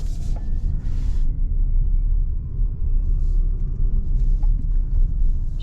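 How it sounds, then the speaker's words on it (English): A 2022 MG HS PHEV plug-in hybrid SUV with its petrol engine engaging under harder acceleration, a steady low engine rumble and road noise heard from inside the cabin, loud and continuous with faint higher whine. "once you push the throttle a little bit harder, you will notice the petrol motor engage"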